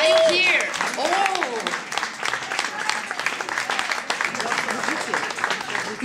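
Applause from an audience at a World Cleanup Day award ceremony, steady dense clapping filling the space for several seconds, with voices and whistles rising over it near the start.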